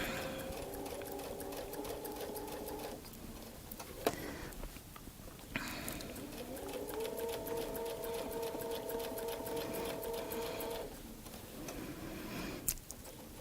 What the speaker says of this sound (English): you would normally sew all of the Baptist fans going across a quilt